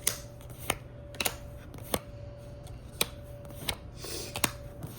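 Tarot cards are pulled and shuffled by hand. Sharp, crisp card snaps come at irregular intervals over a quiet background, some single and some in quick pairs, with no speech.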